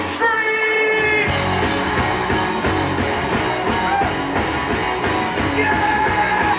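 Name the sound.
concert crowd screaming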